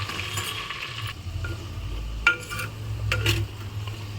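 Mutton being stir-fried in hot oil for handi biryani, a steady low sizzle with a few sharp scrapes and clinks of a spoon against the pot, close and fairly loud with no talking.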